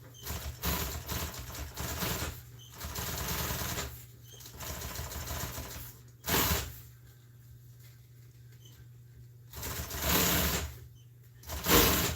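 A sewing machine stitches car seat cover pieces together in several runs of steady close mechanical whirring, broken by short pauses and a few sharp handling knocks.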